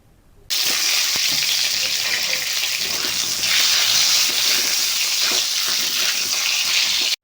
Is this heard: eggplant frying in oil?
yes